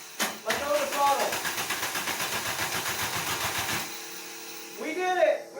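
A Volkswagen ABA 16-valve turbo engine fires up and runs rough and pulsing for about three and a half seconds before cutting out, followed by brief excited voices nearby.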